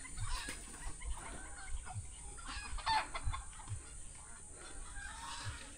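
Chickens cluck and a rooster calls in a rural outdoor setting. The short, repeated calls are fairly faint and steady over low background noise, with no talking.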